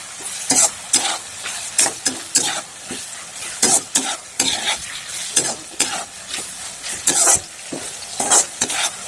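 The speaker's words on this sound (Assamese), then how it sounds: "এতিয়া আমি টমেটো চচ আৰু সয়া চচৰ লগত 1 বা 2 মিনিটমান ভাজি ল'ম" Pork stir-fried with tomato sauce and soy sauce over high flame, heard as a loud, busy sizzle broken by rhythmic scraping and tossing strokes of a spatula every second or so, close up with no voices.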